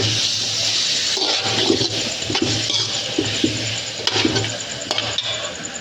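A spoon stirs village-style potato and chicken curry in a sizzling pot, with a continuous frying hiss and soft scraping knocks close by.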